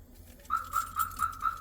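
A Viper 350 Plus car alarm gives five short, evenly spaced electronic chirps at close range, each a bright clipped beep following a brief quiet lead-in.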